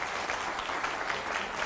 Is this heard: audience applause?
yes